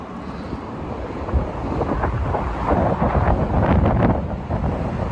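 Gusts of wind buffet the microphone, a rough rumbling roar that swells and fades unevenly, with no voices.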